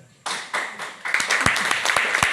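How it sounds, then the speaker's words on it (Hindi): An audience at a network marketing event bursts into applause after a quiet moment, with steady clapping that grows denser and louder, and a few sharp, close hand claps standing out near the end. "जोरदार तालियां कमल भाई के लिए।"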